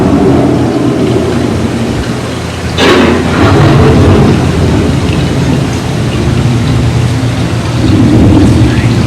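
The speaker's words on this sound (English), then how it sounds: "The approaching storm may seem violent and destructive to us" Rumbling thunder and steady rain from the storm effect on Epcot's Living with the Land boat ride, a loud crack near the middle, then continuous roaring rain and low rolling rumble.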